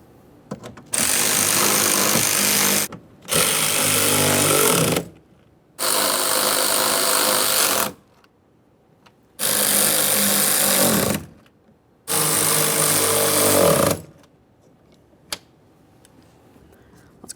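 A power tool tightening window regulator hardware inside the rear left door of a Ford F-150, five loud, close bursts of about two seconds each separated by short pauses, with a faint click afterward.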